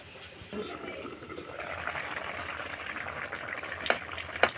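Potatoes boil in water in a covered pan for a fish curry with raw tomato, a steady close bubbling hiss with a few sharp lid-like clicks near the end.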